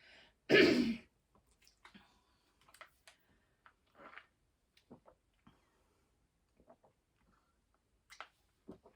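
A single loud, harsh throat-clearing cough, followed by quiet scattered ticks and small handling noises.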